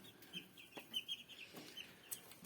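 Young chicks peep and cluck in a small brooder kept warm by a simple homemade heater in place of a mother hen, scattered soft calls at moderate distance over a quiet background.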